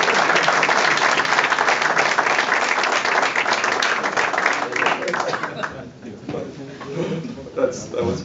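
An audience at a ribbon-cutting event for a neighborhood patrol's new command center gives a dense round of applause that dies away after about five seconds, followed by talking and scattered noise.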